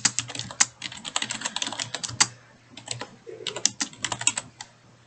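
Rapid typing on a computer keyboard while composing a message for a Microsoft Teams meeting, a close, busy patter of key clicks with brief pauses and a faint steady hum underneath.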